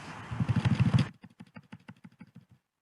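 Quick keystrokes on a computer keyboard, a burst of rapid clicks over a noisy room tone followed by a slower, cleaner run of about a dozen distinct taps close to the mic, then silence.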